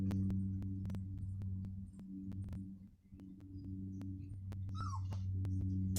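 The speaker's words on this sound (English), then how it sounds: "the little dog needs to go out" A small dog whimpers in short, high, faint whines over a steady low household hum, with occasional clicks.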